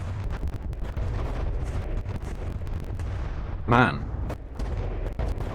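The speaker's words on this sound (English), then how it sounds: "the explosions just sound weird and lag" Rumbling missile explosions and booming fire in the game From The Depths, dense and continuous, with someone speaking over the barrage.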